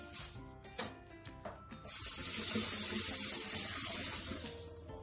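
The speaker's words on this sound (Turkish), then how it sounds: "Bunu bir yıkayalım." Potatoes washed under a running kitchen tap, a few light clinks first, then a steady, close rush of water splashing into the sink for about two and a half seconds before easing off.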